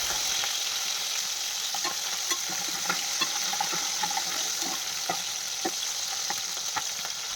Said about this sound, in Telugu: ఈ పచ్చిమిర్చిని కొంచెం కలర్ చేంజ్ అయ్యేలాగా ఫ్రై చేసుకుంటున్నాను